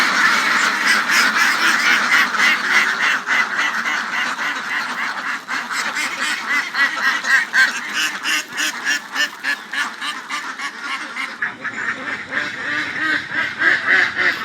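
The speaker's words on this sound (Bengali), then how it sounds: "তো এই হচ্ছে হাঁসগুলো এখন বিলি নিয়ে যাওয়া হচ্ছে।" A flock of farm ducks, white ones among them, is driven out to the wetland at a village duck farm; loud, continuous overlapping quacks and honks fill the whole stretch close by, with no talk over them.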